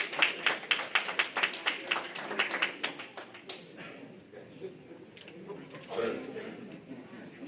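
An audience at a local candidate forum bursts into a round of sharp, rhythmic clapping that fades after a few seconds, followed by murmuring and a voice talking in the room.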